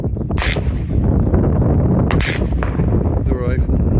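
Shots from a .22 caliber rifle at an outdoor shooting spot in San Bernardino National Forest, a couple of sharp broadband cracks over steady background noise with muffled voices.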